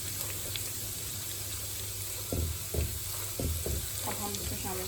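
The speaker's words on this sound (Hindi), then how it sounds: "जीरे को थोड़ा सा सौते करेंगे।" Cumin seeds sautéing in hot oil for a dhaba-style urad dal tadka, a steady close sizzle broken by a few soft stirring knocks partway through.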